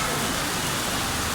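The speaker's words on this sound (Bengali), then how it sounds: "আমি দেখতে পাচ্ছি বৃষ্টি, প্রচণ্ড বৃষ্টি, এবং বেশ জোরে সোরে বৃষ্টি হচ্ছে।" Heavy rain pours down over Dhaka before evening, a dense, unbroken roaring wash of water that stays loud and constant from start to finish, with no voices audible.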